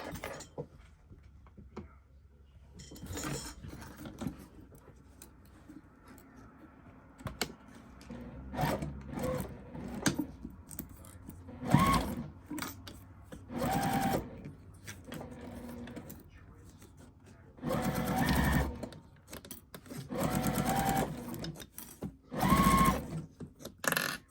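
A home sewing machine bastes a zipper onto fabric in several short runs of rapid mechanical stitching, pausing between bursts, heard up close while a person talks quietly through much of it.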